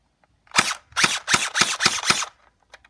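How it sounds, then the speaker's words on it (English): A full-auto airsoft gun fired without BBs gives six sharp, loud, close snapping shots in quick, even succession, then silence. "But this is full auto, or how fast it would be if it had BBs."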